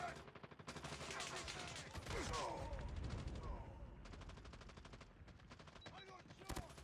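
Call of Duty Mobile ranked match gunfire: bursts of rapid automatic shots rattling through the clip with a busy, layered battle mix and short gaps between volleys, fairly loud.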